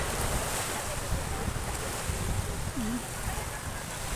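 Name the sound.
waves on Boracay seashore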